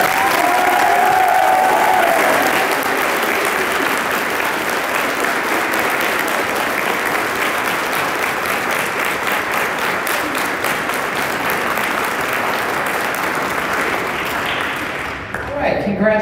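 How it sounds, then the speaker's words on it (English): A loud, sustained round of applause for staff fills a youth academy awards banquet hall, with dense clapping and some crowd noise that holds steady before thinning out and stopping near the end. "One more round of applause for all staff."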